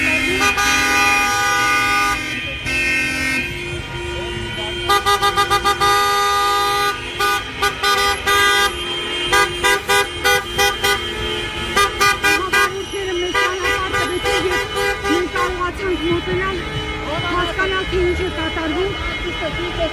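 Car horns blare repeatedly at the Mashtots–Pushkin street intersection, loud, overlapping honks in rapid bursts over busy traffic noise, with people talking amid the din.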